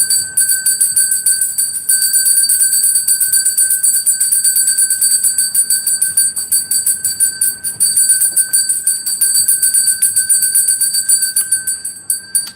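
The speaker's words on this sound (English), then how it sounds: "I've got to ring that fucking bell." A bell rings rapidly and continuously, a loud metallic clanging with steady bright ringing tones that keeps going without pause, heard alone with no voices.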